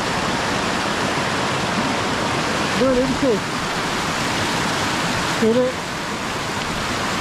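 A waterfall in Iceland roars as a steady broadband rush close by, continuous and loud throughout, with someone briefly speaking over it twice.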